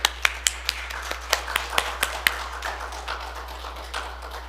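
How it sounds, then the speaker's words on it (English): Scattered hand claps at a hearing loss association meeting welcome Dr. Dusnop, a handful of sharp, close claps in an uneven rhythm that thin out into a faint patter after a couple of seconds. "please give a round of applause for Dr."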